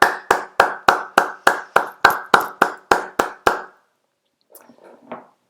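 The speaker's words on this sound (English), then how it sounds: "now it's 8 p.m, so everybody is like applauding" Claps ring out from neighbours at 8 p.m. in Madrid, about a dozen sharp, evenly spaced hand claps close by, followed by a pause and a few faint, scattered sounds.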